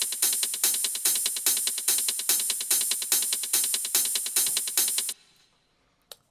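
Layered techno hi-hat samples from a hardgroove track play together in a dense, driving loop of crisp ticks and open hats for about five seconds, then cut off abruptly, leaving near silence and one faint click.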